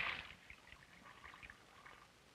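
Water drains out of the bottom of a cylinder once the top is opened, a faint trickling pour that starts with a brief splash and then keeps dribbling softly and steadily.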